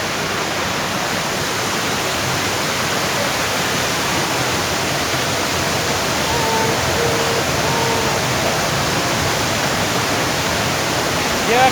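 An artificial waterfall at Natore Green Valley Park pours down as a loud, continuous rushing hiss, steady throughout with no break, heard up close and alone.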